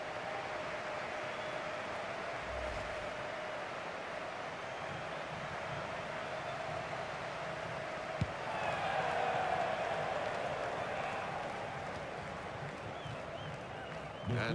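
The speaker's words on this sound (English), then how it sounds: "the crowd enjoyed that one on the feet" Simulated stadium crowd noise in the FIFA 20 football video game, a broad steady roar that swells briefly into louder cheering partway through, with commentary voice over it.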